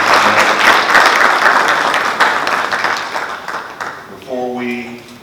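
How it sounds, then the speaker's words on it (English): Loud, dense applause from the audience at a panel discussion on voting held by a women's advocacy group, sustained for several seconds and then trailing off as a voice starts to speak near the end. "Let's give a round of applause for all of our..."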